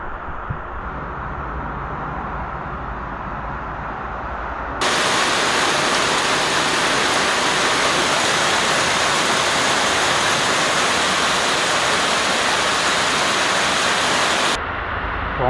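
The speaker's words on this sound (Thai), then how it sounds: "จะรอฝนเบาลงนิดนึง แล้วเราก็ออกเดินทางกันใหม่นะครับ" Heavy rain pours steadily during the rainy season in Pua, Nan, a dense continuous hiss that grows louder midway, then drops back, with no talk.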